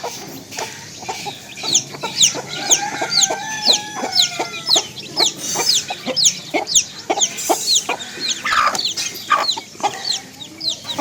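A mother hen clucks repeatedly and close by as her chicks are let out, with other chicken calls and chirps mixed in, in a busy, continuous rhythm.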